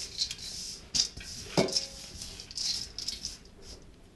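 Dough ingredients for a Stollen tossed with flour in a bowl, heard as close, light clinks and rattles of utensil against bowl in irregular bursts with soft shuffling between.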